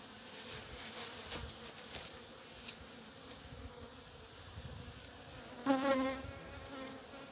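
Steady bees buzzing all around during a winter hive check, a dense droning hum, with one bee flying close and loud near the end, inside a beekeeper's mask.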